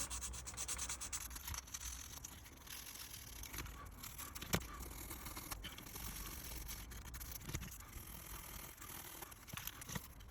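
Ridges of dried paint sanded off a Hornby/Tri-ang model locomotive body make a faint, steady scratchy rubbing in close, continuous back-and-forth strokes.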